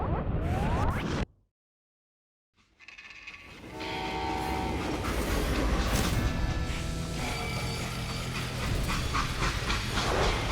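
Train from the video game Call of Juarez Gunslinger, a freight train carrying an express safe: loud rumbling rail noise and hissing steam with a horn, which breaks off into near silence and then returns as a steady, dense roar.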